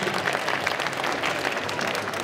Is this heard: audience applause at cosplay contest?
yes